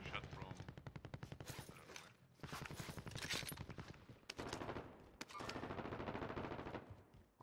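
Rapid gunfire in the Warzone video game during a quads match at the airport: sustained loud bursts of closely spaced shots rattling in long strings, with brief pauses between volleys.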